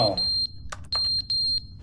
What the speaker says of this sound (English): Oh, the smoke detector.